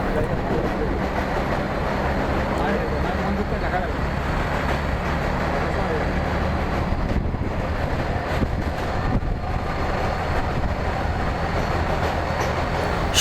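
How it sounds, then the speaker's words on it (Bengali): A freight train rumbles steadily along a railway line near a bridge over the Ganges, a loud continuous roar with wind buffeting the microphone throughout. "রেল লাইনে মালগাড়ি যাচ্ছে"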